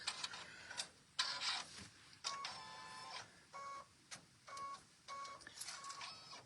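An embroidery machine stitching a notebook cover runs in short mechanical bursts of rapid whirring and tapping with brief pauses between, close and fairly quiet, with no one talking.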